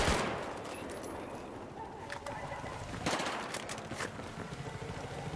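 Battlefield 4 gunfire pops in scattered bursts, with sharp cracks and rattling volleys over a steady outdoor ambience, moderately loud and somewhat distant.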